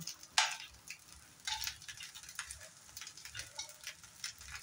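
Fried onion and egg going into a pan and being stirred, with soft sizzling and scattered scraping and clinking of a utensil against the pan, close and fairly quiet.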